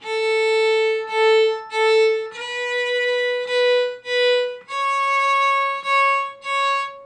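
Bowed fiddle notes in a steady down-up bowing pattern of separate strokes, each note sustained then briefly broken, moving through a few pitches at a moderate tempo.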